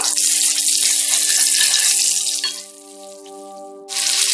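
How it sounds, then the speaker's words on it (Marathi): Mackerel (bangda) frying in green masala with oil over a low flame, giving a loud, bright, hissing sizzle that eases down for a second or so before flaring up again, with no one talking. "मंद आचेवर बांगड्याला चांगल्या प्रकारे शिजू द्या"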